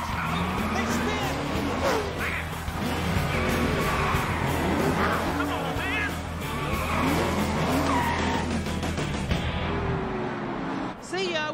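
Race cars touch and spin out, tires skidding and squealing under heavy engine roar, with excited voices talking over the crash.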